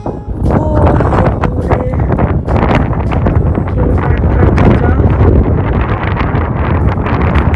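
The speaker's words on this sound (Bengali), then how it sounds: "জানি না বাতাসের আওয়াজে বুঝতে পেরেছেন কিনা" Strong wind buffets the microphone on the clifftop coast at Tintagel, Cornwall, a loud, constant roar with gusty surges that never lets up.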